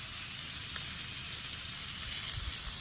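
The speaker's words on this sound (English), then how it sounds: "That's some grilling here." Steak sizzling on an outdoor grill during a camping road trip, a steady close hiss and crackle with a few soft pops and no voices.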